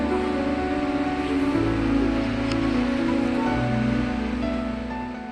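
Fanes waterfalls pouring into a canyon in the Dolomites, where the Giovanni Barbara via ferrata passes beneath the falls: a steady, loud, continuous roar of rushing water, dense and unbroken throughout with no voices.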